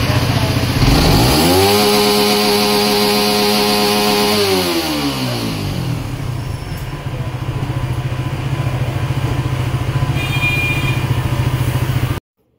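Suzuki GSX-R150 motorcycle engine running steadily after an RPM problem is fixed. It revs up, holds a high note for a few seconds, then drops back to an even idle, loud and close, with no talking.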